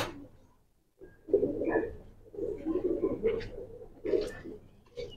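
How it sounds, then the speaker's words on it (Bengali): A pigeon close by gives several soft, throaty coos in short bursts with brief pauses between them, quiet overall and with no speech. "এই যে কবুতরটা দেখেন, মাশাআল্লাহ খুবই সুন্দর।"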